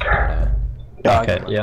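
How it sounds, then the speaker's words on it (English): A dog barks a few times near the end, sharp and fairly close, following a stretch of people talking. "Can you hear the dog?"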